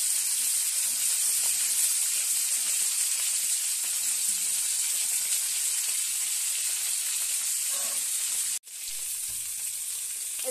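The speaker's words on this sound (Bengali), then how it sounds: "এদিকে ফুলকপিগুলো ভাজা হচ্ছে তরকারির জন্য" Cauliflower florets fry in a pan for a curry, hissing with a steady, fairly loud sizzle that cuts out briefly near the end and then resumes.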